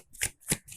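Tarot cards are shuffled for a reading, two quick crisp riffling bursts about a quarter second apart, close and fairly soft.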